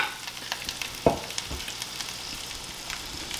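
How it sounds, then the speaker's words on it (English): Butter melts and sizzles in a hot pan as a rum pina colada sauce is started, a steady close frying crackle with scattered pops and one louder clink midway. "I'm going to add about 1 tablespoon of butter"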